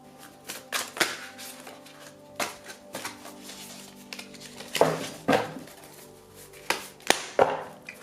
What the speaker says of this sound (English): So we're going to shuffle.